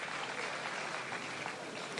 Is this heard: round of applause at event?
yes